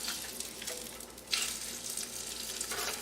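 Food sizzles and fries steadily in a stainless steel pan, sticking to the surface, with a brief louder scrape and clatter near the middle as it is pried loose and flipped, then frying continues.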